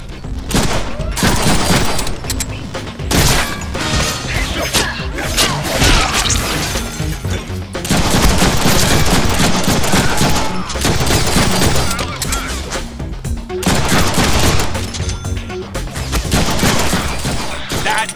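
Dense, loud gunfire rattles almost continuously in the Deadpool game on PC, heavy bursts of shots and crashes with brief pauses, close and overwhelming.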